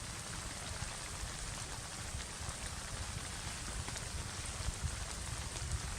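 Spring rain patters steadily on a camping tent, an even, continuous hiss of drops with no pauses and no voices.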